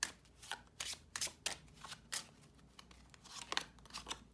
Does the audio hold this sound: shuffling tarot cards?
yes